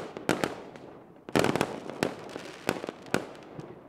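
Fireworks sound effect: a series of sharp bangs and crackling bursts at irregular intervals, some spaced apart and some clustered together, loud and close, with no voices.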